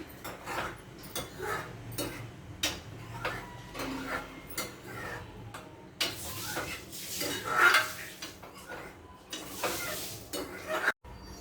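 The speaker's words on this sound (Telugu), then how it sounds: "ఇది ఉంటలు కట్టకుండా బాగా ఇలాగా మెల్లగా కలబెడుతూ ఉండాలి" Homemade ghee being stirred slowly in a pot, with a spoon scraping and clinking against the metal in a steady, irregular rhythm at close range, soft and unhurried, with no voices over it.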